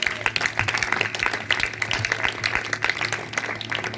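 A church congregation claps together in a brisk burst of uneven, close applause that keeps going steadily for several seconds.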